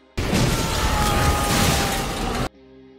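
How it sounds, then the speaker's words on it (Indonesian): An electric oven explodes in a kitchen in a film, bursting out as a loud, dense roar that holds steady for about two seconds and then cuts off abruptly, leaving a low hum. "Saat mereka masuk ke dapur, ledakan terjadi dari open listriknya."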